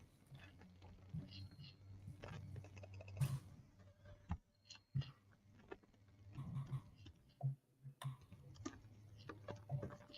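Faint, irregular keystrokes click on a computer keyboard in uneven bursts, with soft muffled voices and room noise underneath.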